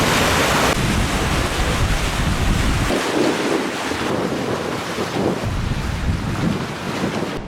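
Strong wind buffets the microphone over the rushing wash of sea swell against a moving boat, loud and constant with surging waves and no voices.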